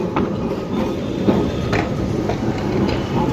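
A Kolkata tram rumbling steadily along the rails with periodic clacks and rattles, fairly loud and close, no voices.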